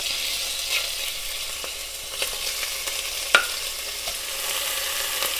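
Beef stew meat searing in olive oil in a pot over medium-high heat, a continuous close sizzle with occasional sharper spits and a scrape near the middle, no one speaking.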